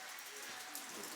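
Steady, soft rain hiss fills the background aboard a sailboat, an even wash of patter with no clear pauses.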